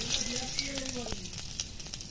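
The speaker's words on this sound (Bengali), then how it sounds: "গোটা গরম মশলা দেব তেলের মধ্যে, 5 ফোড়ন, একটা তেজপাতা 2 টুকরো করে দিচ্ছি" Whole spices and a bay leaf split in two sizzle steadily in hot oil at close range, a soft continuous crackle with faint watery hiss and no talking.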